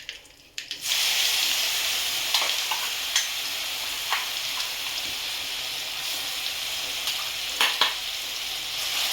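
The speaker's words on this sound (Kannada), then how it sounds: "ಇವಾಗ ರುಬ್ಬಿರೋದೆಲ್ಲ ಎಣ್ಣೆಗೆ ಹಾಕ್ತೀವಿ." Ground onion paste hits hot oil with asafoetida in a pan for onion thokku, a sudden burst into a loud continuous sizzle, with occasional soft clicks of stirring.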